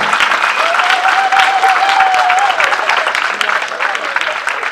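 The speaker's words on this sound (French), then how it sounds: "j'aimerais qu'on les applaudisse très fort" A crowd of students applauds loudly in a theatre during a student demonstration in Brest, sustained massed clapping that holds steady, with a faint tonal whistle or voice drifting through the middle.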